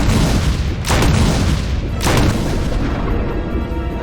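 A shotgun booms in Resident Evil REmake in quick pump-cancelled shots, three heavy blasts roughly a second apart. Each blast is loud and close and leaves a rumbling tail, and no voices are heard over them.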